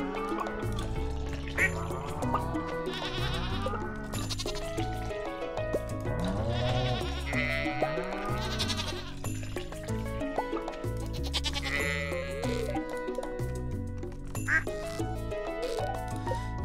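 Sheep bleat repeatedly in the farming video game Stardew Valley, with loud overlapping calls over a steady music bed and a few duck-like quacks mixed in.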